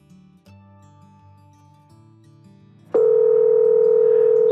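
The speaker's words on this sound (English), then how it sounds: "So you can see it's ringing." A phone call rings through after an international number is dialed: a few seconds of quiet low dialing and connection tones, then a loud, steady ringback tone starts abruptly and holds.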